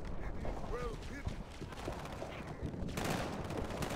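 Rapid gunfire crackles through a Halo 2 firefight on PC in quick bursts and a sustained fusillade, set against game effects and a rumbling background, with faint talking underneath.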